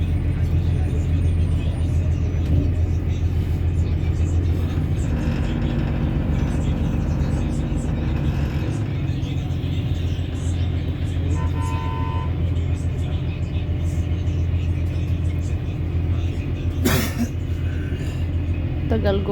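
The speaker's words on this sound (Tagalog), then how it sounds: "Ayan oh, ang bagal umusad ng sasakyan." Slow, stop-and-go cars crawling through a heavy traffic jam give a steady low engine rumble throughout, with a short horn toot near the end and a voice talking over the traffic.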